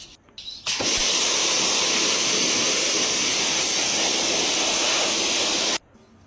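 Dirt and grit scrubbed off the threads of AE86 coilovers in a steady, loud, unbroken rasp that lasts about five seconds, with no talking.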